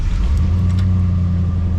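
A Datsun mini truck engine runs with a loud, close, low rumbling idle that holds steady and pulses slightly, with no talking over it.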